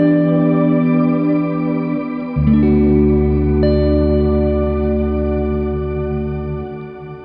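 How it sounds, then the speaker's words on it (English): An electric guitar played through a GFI System Skylar shimmer reverb pedal rings out in sustained chords that shift once early on, then bloom into a long, bright, octave-laden wash that slowly fades. "It's a Shimmer reverb, which we probably all know by now."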